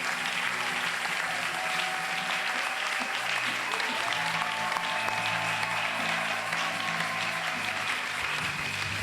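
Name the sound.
church congregation applauding the Lord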